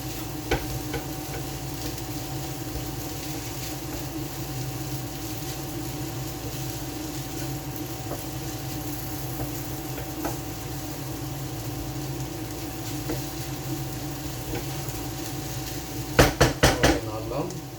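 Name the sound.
stirring fried onion and spices in a pan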